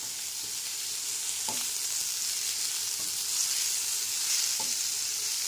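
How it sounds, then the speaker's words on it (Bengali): Finely chopped beans frying with poha and vegetables for a Bengali pulao over a low-to-medium gas flame, giving a steady, close sizzle with a few soft spatula taps and no voices. "সেটাও খুব ভালো করে সব কিছুর সাথে ভেজে নেব"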